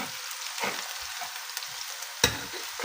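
Onions and bay leaves frying in a pan for fish curry, a soft steady sizzle with a few light stirring scrapes and one sharper clatter, fairly quiet and close, with no voices.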